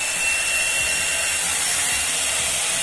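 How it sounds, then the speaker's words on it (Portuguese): An Avon 3-in-1 hot air brush runs on its highest setting, 3, giving a steady, loud hair-dryer whoosh with a constant motor whine, close up and unbroken for the whole stretch. "Olha o barulho dela. É o barulho de secador."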